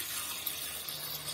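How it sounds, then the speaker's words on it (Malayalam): Water pours into a pot holding pieces of jackfruit for a Kerala-style aviyal, a steady faint splashing stream running through the short moment with no voices. "ഇനി അതിന് ആവശ്യമുള്ള വെള്ളം ഒഴിക്കാം."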